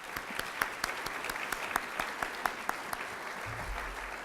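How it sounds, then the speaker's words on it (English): Audience applause at a State of the City luncheon, a steady patter of many hands clapping from a room of people, continuous for several seconds with a low rumble entering near the end. "Please join me in giving a round of applause both to Mr. Bruce Woods and Mr. Al McCombs."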